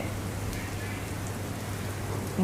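Steady heavy rain pours down on Ahmedabad in a dense, even patter, with a low hum running beneath it.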